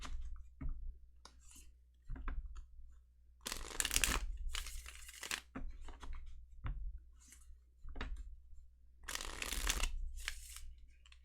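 Repeated bursts of tarot cards being shuffled up close during a reading, crisp riffling and papery slaps separated by short pauses.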